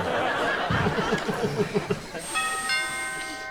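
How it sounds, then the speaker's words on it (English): A doorbell chimes clearly in two bright ringing tones that sustain and fade, following a stretch of laughter and chuckling on a television comedy. "the doorbell"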